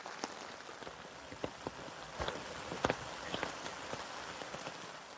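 Rain patters onto a camp canopy overhead, a steady soft hiss broken by sharper individual drops tapping the fabric close by, with no voices.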